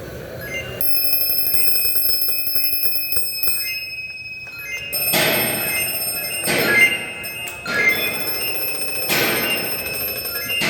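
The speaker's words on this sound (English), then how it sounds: "breathe slowly so that you can check your low pressure alarm and see where it goes off" An SCBA low-pressure alarm on a firefighter's breathing apparatus rings with a continuous bell-like tone, broken by several loud bursts of breathing or air noise.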